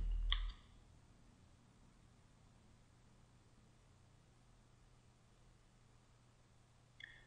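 A computer mouse gives two sharp, isolated clicks, one near the start and one near the end, during right-clicking in the Lattice Diamond FPGA design software, separated by a long stretch of quiet background hiss.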